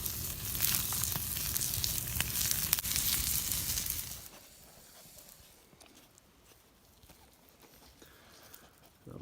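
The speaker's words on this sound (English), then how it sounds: "when we put our steaks, that's the sound" Steaks sizzle over an open campfire at a bushcraft camp with a natural lean-to shelter: a loud, dense hiss for about four seconds, then a much quieter, fainter crackle that carries on to the end.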